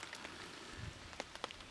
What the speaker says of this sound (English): even though it is raining, you do get a little bit of spit on you now and again